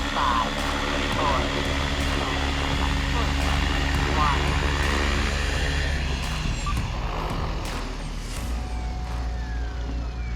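A Trex 500X RC helicopter flies with a steady, continuous rotor and motor whine that holds loud throughout, with faint broadband wind noise and no pauses.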